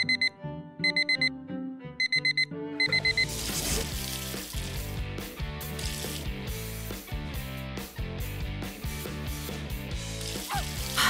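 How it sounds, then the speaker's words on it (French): An alarm clock rings in a bedroom with a few sharp repeated electronic beeps, then a loud, dense burst of bright clattering sound and music swells over it and carries on. "T'aimes pas ce réveil?"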